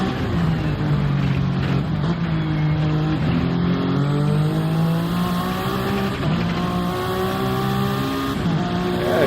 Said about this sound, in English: the hypercars, braking for the first chicane